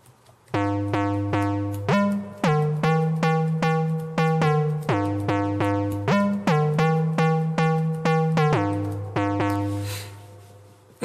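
An FL Studio synth lead recreating a song's sound, its bright buzzy notes repeating in a steady pulsing rhythm and stepping between a few pitches, loud and alone with light reverb.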